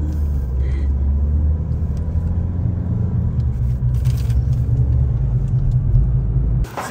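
Car driving along a road near Tabuk, with a steady, loud engine rumble and road noise throughout, ending abruptly; no talk heard.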